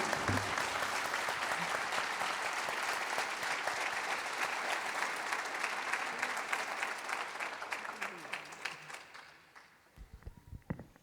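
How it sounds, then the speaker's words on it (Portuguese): Strong applause for children at a charity gathering in Santana de Parnaíba, a crowd clapping steadily and loudly before it thins out and stops near the end. "Palmas para as crianças agora."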